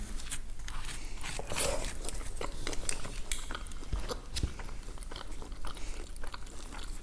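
Kulcha being bitten and chewed up close, with crisp crunchy bites and moist chewing over a steady low background, plus a few light clinks like cutlery or plates.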